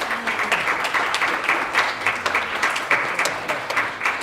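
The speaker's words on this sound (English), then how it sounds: "get a nice round of applause for your work" Seated congregation applauds past maintenance volunteers with an even, sustained round of clapping, moderately loud and unbroken, with no voices on top.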